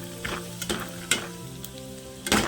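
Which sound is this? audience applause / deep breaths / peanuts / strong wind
peanuts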